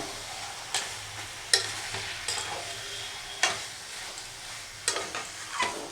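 Mutton curry with coriander powder sizzles quietly in a pan while a spoon scrapes and stirs it in a few sharp strokes, a steady low frying hiss running underneath.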